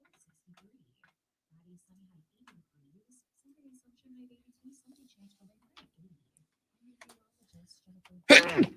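A single loud sneeze bursts out at the very end after a long stretch of near silence with faint murmuring.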